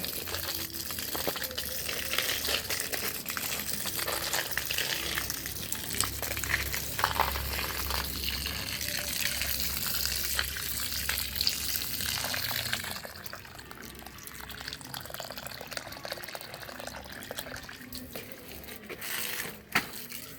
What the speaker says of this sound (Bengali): এবার আমি এতে একটু জল দিয়ে নেব। দেখুন জল দিয়ে দিচ্ছি।